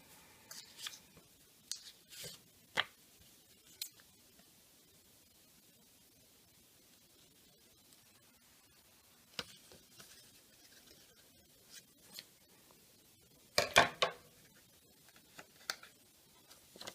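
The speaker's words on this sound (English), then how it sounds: "And I'm going to cut it now." Scissors cut card for a handmade get-well card, giving faint, irregular snips and small crisp clicks spread over a quiet background.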